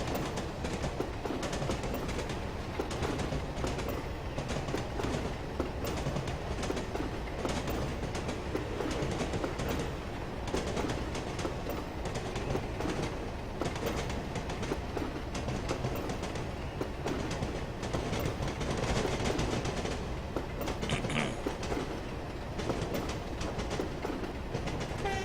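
Steady rolling of a BR Class 27 diesel train on rails in Train Simulator 2016's Western Lines of Scotland route: continuous broadband rumble with rhythmic rail clatter, loud and unbroken throughout, no voices.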